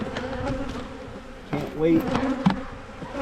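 Honey bees buzzing at an open beehive during an early April inspection, a close steady drone with individual bees passing near, swelling briefly in the middle.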